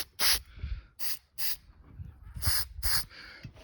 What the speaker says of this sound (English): So I like the spray 77 because again, this comes out in a nice mist.